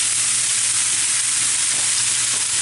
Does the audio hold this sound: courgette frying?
yes